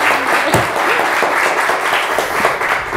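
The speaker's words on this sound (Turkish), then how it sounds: "Yalnız o alkış biraz az efendim" A studio audience at a Turkish TV word game show bursts into loud, dense applause, a steady wash of clapping that holds at full strength for the whole stretch.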